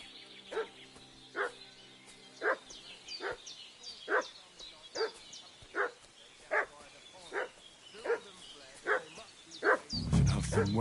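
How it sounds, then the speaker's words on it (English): A dog in the video game Kingdom Come Deliverance 2 barking at a steady pace, about a dozen evenly spaced barks at moderate distance, with a sudden louder noise at the very end. "What's that dog making such a fuss about?"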